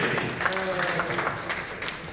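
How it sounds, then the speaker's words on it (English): Conference audience applauds a supplier collaboration panel, giving a continuous, fairly loud round of clapping with voices mixed in. "Give them the round of applause."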